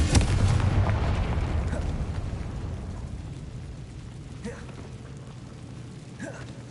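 A Confringo blasting spell explodes in the Hogwarts Legacy video game inside a decayed catacomb, opening with a loud boom that rolls off into a long fading rumble, followed by a few faint pops.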